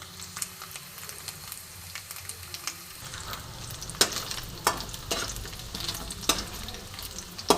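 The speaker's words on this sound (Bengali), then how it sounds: "নারকেলটা বেশ একটু হালকা ভাজা ভাজা হয়ে গেছে" Grated coconut frying in a pan for a fennel coconut chicken dish, a low steady sizzle with scraping stirring strokes growing louder and more frequent partway through, close and without speech.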